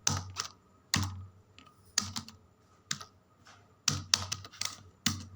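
Keys on a computer keyboard are pressed in short bursts of crisp, close clicks separated by brief pauses, while invoice details are entered in Tally Prime accounting software.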